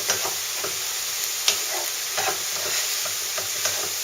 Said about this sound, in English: what I'm going to do, like I said, is just let it fry off and add those flavors